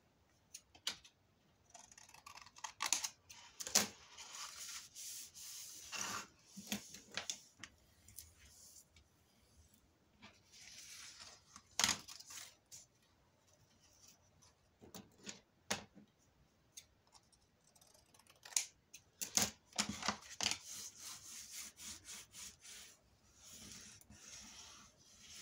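Scissors trimming cereal-box cardboard for a handmade mini album, a scattered series of crisp snips and rubbing rasps, close and fairly quiet, with no talking.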